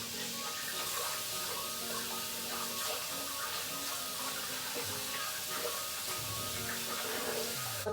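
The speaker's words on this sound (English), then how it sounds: "I'm gonna wash my hands." Hands washed under a running kitchen tap, a steady close hiss of flowing water with soft splashing throughout and no talking.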